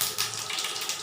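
Cumin and mustard seeds hit hot oil with a dense, steady hiss, close and fairly loud for about a second. No one speaks.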